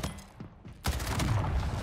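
A rapid-fire SMG with heavy recoil rattles off a dense burst in a video game after a quieter lead-in, the shots blurring into one continuous loud stream.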